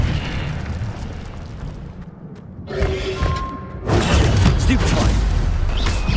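The Incendio fire spell goes off in Hogwarts Legacy: loud booming bursts of flame over continuous game noise, with a tonal magical shimmer in the middle and a heavier blast that rolls on to the end.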